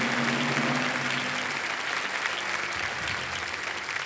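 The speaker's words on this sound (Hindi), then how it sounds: "ताली बज रही है जनता की ओर से।" A studio audience at a television quiz show applauds, dense continuous clapping at strong level that carries through the whole stretch, with a faint hum beneath at the start and no talk over it.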